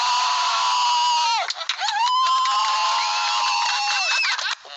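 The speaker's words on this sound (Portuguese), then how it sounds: "Na saída, tem direito até a grito de guerra." Mission-school students shout a loud group war cry as they depart on a trip to the airport, a chorus of sustained raised voices with a brief break before the chant resumes.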